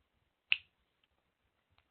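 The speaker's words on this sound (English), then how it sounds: "and snap your fingers." A single crisp finger snap sounds at the end of a guided relaxation session with a group, followed by a couple of faint ticks in an otherwise quiet room.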